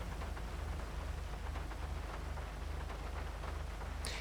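Steady broadband rain hiss from the video game GTA V set in Los Santos, a constant wash of falling rain with a low rhythmic hum beneath it and a brief bright tick near the end.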